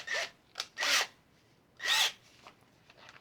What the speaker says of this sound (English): take that humbucker and drill